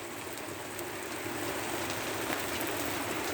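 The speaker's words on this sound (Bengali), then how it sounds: "এভাবে আমি ভেজে নিচ্ছি ঝরঝরে করে ভাজি চিংড়ি" Shrimp fry in a pan with bitter gourd, giving a dense, even sizzle like steady rain. The crackle stays continuous and close, with no talk.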